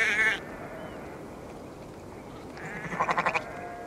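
A sheep in the video game Assassin's Creed Valhalla bleats briefly at the start, then, after a quiet stretch, a louder, wavering bleat follows, close and clear.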